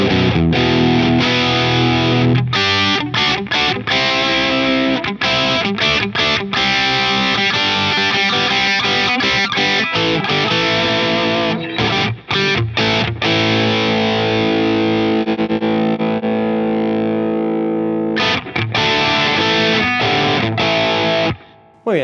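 Heavily distorted electric guitar runs through the power amp stage of a Two Notes OPUS, loud dense chords with choppy rhythmic stops and restarts, ending abruptly.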